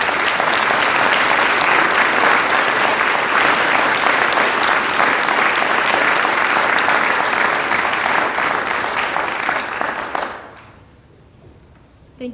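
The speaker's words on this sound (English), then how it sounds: "Let's give them a round of applause." A crowd at a university Founders Day convocation and tapping ceremony claps loudly and continuously for around ten seconds, a dense wash of applause that quickly fades out into near silence with one small sound at the end.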